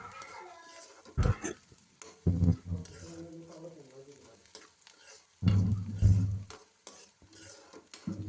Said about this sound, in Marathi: लाल होईपर्यंत तळून घ्यायचं आहे